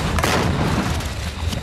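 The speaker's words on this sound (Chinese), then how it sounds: "哈马斯成员单枪匹马一肩扛起 RPG 火箭筒轰炸以军坦克" A shoulder-fired RPG rocket launcher blast during Gaza street fighting, aimed at an Israeli tank, produces a heavy booming report with rumbling, noisy reverberation that fills the whole moment.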